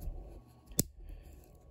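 Small scissors from a Swiss Army knife give a single sharp metallic snip or click, brief and close against a quiet background.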